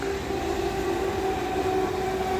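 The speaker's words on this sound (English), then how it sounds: "the trains here are very frequent" A commuter train on a local railway line in Setagaya, Tokyo, rolling past with a steady loud rumble and a faint sustained whine the whole time.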